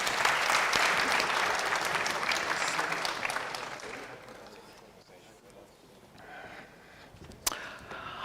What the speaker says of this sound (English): A round of applause again for my panelists.